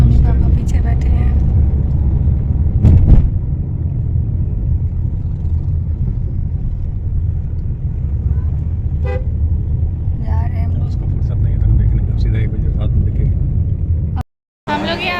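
Family riding inside a car, steady engine and road rumble throughout with a horn toot early on, voices talking in the cabin, and a brief dropout near the end.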